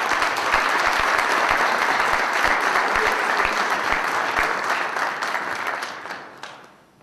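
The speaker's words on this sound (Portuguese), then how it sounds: "uma salva de palmas ao JS" A full round of applause greets a presenter at the Prêmio Dorneles Treméa award event: dense, loud clapping from a large crowd that holds steady, then thins and fades out near the end.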